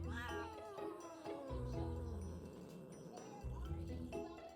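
A cat meows repeatedly in drawn-out, agitated cries, close and fairly loud, with a few harmonic wails rising and falling throughout.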